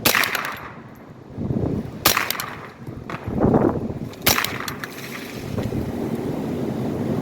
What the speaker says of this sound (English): That sound that you heard was a tree coming down just now.